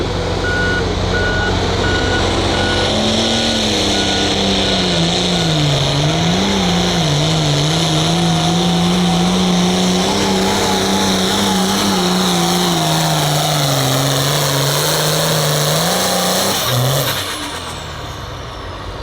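A loud, sustained engine roar from an 8,500 lb limited pro stock pulling tractor at a tractor pull, pitch wavering under strain, with a high beeping tone early on, then dropping off near the end.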